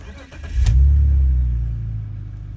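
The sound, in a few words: BMW car engine starting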